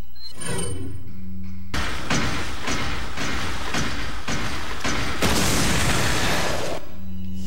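Flash grenade going off in Resident Evil 4, a loud broadband burst of game sound effects with repeated thumping blasts lasting several seconds, standing alone without talk.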